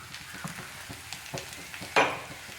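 Potatoes stirred into a simmering masala in a pan for poori masala give soft, close scraping and sizzling, then a sharp utensil knock near the end.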